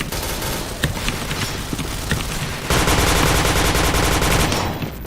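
Gunfire in the first-person shooter Point Blank, scattered single shots followed by a loud sustained automatic burst of rapid, evenly spaced rounds, close and dense, with no talking.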